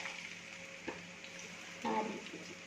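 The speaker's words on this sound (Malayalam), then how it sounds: "ഇതൊന്ന് ഫ്രൈ ആയി വരട്ടെ." Tiger prawns fry in a pan with a faint, steady sizzle, and a short stirring scrape comes near the end.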